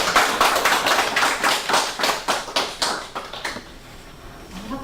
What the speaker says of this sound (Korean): 일단 박수 한번 칠까요 그러면?